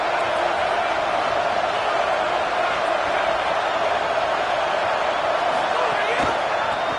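A football stadium crowd roars in a loud, continuous wash of cheering at an Alabama Crimson Tide game, with an announcer's voice talking over it.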